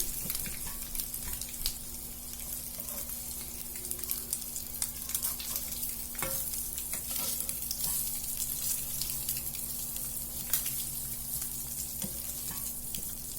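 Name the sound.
eggs frying in a pan, being turned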